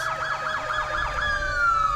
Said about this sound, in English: it's always nice to see the beginning of the parade with all the lights and sirens and the loud noises